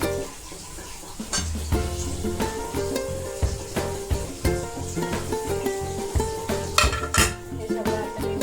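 Salt, garam masala, chili powder and paneer masala stirred together in a pan for palak paneer, a spoon clattering and scraping repeatedly against the metal in a busy, close rhythm with a faint sizzle underneath.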